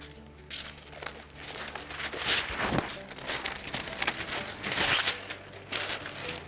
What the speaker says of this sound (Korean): 보통 일반적으로 바닥에다가 종이를 하나 깔아줍니다